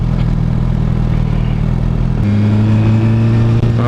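A 2016 Honda CBR1000RR Fireblade SP sportbike on a test ride, engine droning loud and close, then shifting to a higher, steadier note partway through, with wind rush and no talking.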